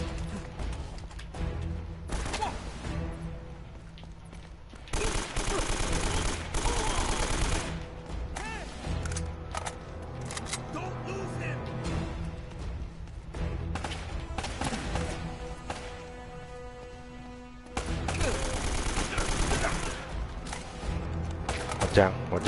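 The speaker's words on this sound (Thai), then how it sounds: "สาดกระสุนมั่วนะ" Gunfire fills a firefight in the video game Uncharted: Drake's Fortune, with bursts of rapid shots and loud volleys rising and falling against a busy game soundtrack.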